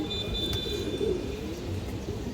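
A red-eyed female pigeon coos softly and steadily in a low murmur, close by, with a faint hum in the background and no talking.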